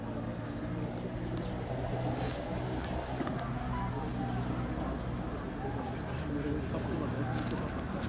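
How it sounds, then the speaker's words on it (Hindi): Red-eyed pigeons in a loft in Pakistan coo softly amid a steady background bustle and low engine-like rumble, with someone speaking nearby over them. "बड़े लाजवाब कबूतर हैं जी।"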